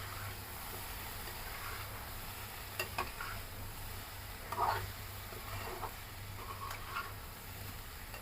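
Mixed vegetable fry being stirred in a pan with garam masala and sambar masala, a soft low sizzle with occasional spatula scrapes and clinks, quiet and without speech.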